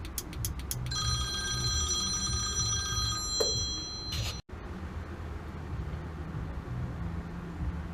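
A telephone bell rings over a steady background hum and noise, with a few bursts of trilling ring before it cuts off abruptly; no one speaks.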